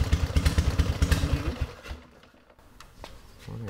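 An old motorcycle that had not run in thirty years, kick-started with the key on and throttle untouched. The engine catches with a rapid, close, thumping putter for about two seconds, then fades into clattery quiet before picking up again.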